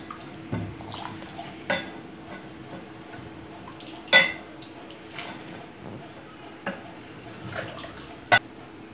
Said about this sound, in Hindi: अब मैं इसको डिश आउट करती हूँ।